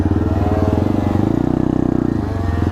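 A Benelli supermoto motorcycle revs hard while lifting into a wheelie, a loud, close, steady pulsing engine drone with a brief throttle swell in the middle.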